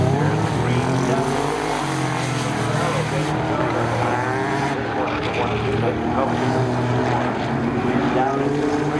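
A Camaro race car launches at a spectator drag race at Seekonk Speedway, its engine a loud, steady roar that holds for the whole stretch and fades slightly as it pulls away.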